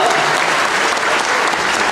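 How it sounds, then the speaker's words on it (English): Audience applause at a sea lion show, a steady, dense round of clapping filling the short stretch at close range and even loudness. "You can give her a nice round of applause for sunbathing."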